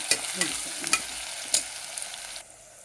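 Two large onions and six green chillies frying in a pan for biryani, a bright steady sizzle with a few quick spoon clinks and stirs, cutting off suddenly near the end.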